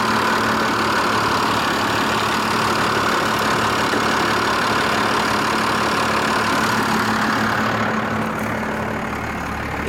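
A car engine idles steadily after being jump started with a 6000A jump starter, giving a continuous loud, even rumble with a constant low hum that holds throughout and eases slightly near the end.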